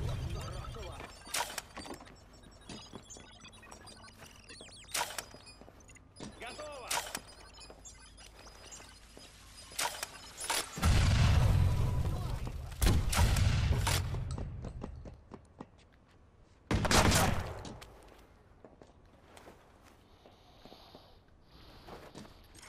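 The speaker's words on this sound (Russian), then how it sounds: "Бомба готова рвануть!" A bomb goes off in a video game, with a long, heavy explosive roar that comes back in a second burst, mixed with busy clattering game effects and sharp impacts, and voices are heard throughout.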